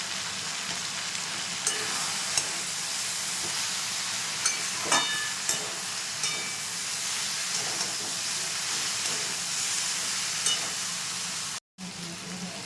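Continuous frying sizzle and hiss from okra in hot oil, with occasional light clicks and taps of stirring, steady throughout and no talking.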